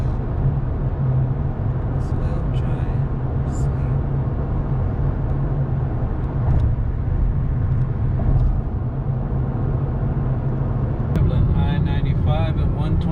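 A Honda Clarity drives on a highway at night, a steady low road rumble and cabin hum throughout, with faint higher rattles and a slight rise near the end.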